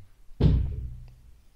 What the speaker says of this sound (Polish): Słyszeliście huk na pewno, śnieg spadło, roztopi się. Spada z dachu.